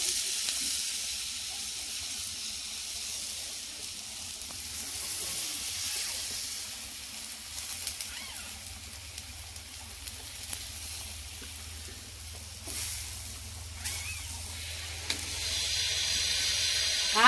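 Floor tiles being cut at a nearby construction job, a steady high-pitched grinding hiss lasting throughout with small clicks and bumps, moderately distant and continuous, with no talking.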